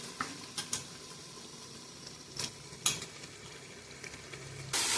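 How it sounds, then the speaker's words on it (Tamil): Chicken sizzles as it fries in biryani masala while being stirred, with scattered scraping clicks from the spoon against the pan and a louder burst of sizzling near the end. "இந்த மசாலாவோட சிக்கன் நல்லா ஃப்ரை ஆகட்டும்"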